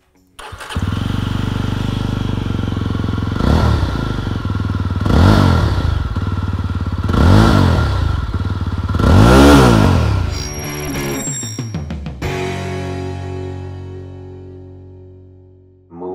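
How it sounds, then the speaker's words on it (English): Yezdi Roadster with a 334cc single-cylinder liquid-cooled engine, recorded up close: a deep bassy exhaust note rising and falling through several throttle blips, then cutting off and dying away. "you'll really appreciate the bassy exhaust note of this engine"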